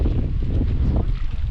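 Steady wind buffeting the microphone in an evening cornfield, a dense low rumble with gusty swells throughout, no voices.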